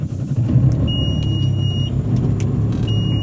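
A Yamaha boat's engine runs with a steady, loud low rumble from start to finish, close by, with no speech over it.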